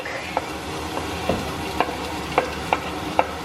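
Garlic sizzles steadily in oil in a pot for Filipino-style spaghetti, with several sharp scrapes and knocks of a stirring utensil at irregular intervals over the constant frying hiss.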